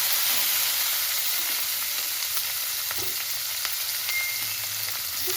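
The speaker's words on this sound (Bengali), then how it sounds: "একটু ভেজে নিচ্ছি।" Capsicum and green chillies with cumin fry in a hot pan, a steady loud sizzle running throughout, with a few faint clinks of a utensil and no voices.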